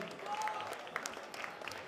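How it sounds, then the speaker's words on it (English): A fight crowd at a Warriors Way event claps after a drawn bout between two fighters, the applause faint and distant with scattered sharper claps. "have a big round of applause for these two fighters"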